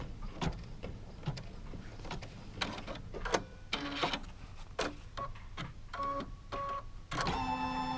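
A sewing machine stitches a quilt block in short bursts of close, sharp mechanical ticks and clacks, ending in a steadier whirring run, with no one speaking.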